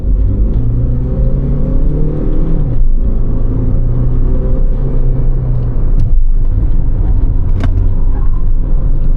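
A 2015 Skoda Rapid 1.6 TDI diesel engine hums and rumbles steadily from inside the car as it drives, with road noise throughout.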